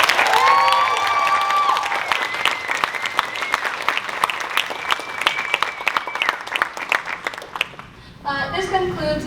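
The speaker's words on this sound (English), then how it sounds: "Let's give our amazing performers, Jess and Erica, another loud round of applause." A crowd at a Hispanic Heritage Month cultural dinner breaks into loud, sustained applause with whoops and cheers for two performers, the clapping dense and steady before fading into a quieter room near the end.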